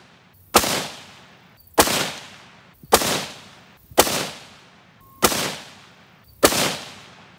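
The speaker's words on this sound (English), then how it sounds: "Unfortunately, I have to shoot using my tripod." Six sharp, loud 6.5 Creedmoor rifle shots are fired from a tripod outdoors in grass. Each blast is evenly spaced about a second apart and followed by a short decaying echo, with no talking.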